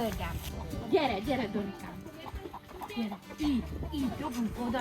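Chickens cluck and squawk at feeding time in a short burst of overlapping fowl calls, rising and falling, with a person talking alongside them.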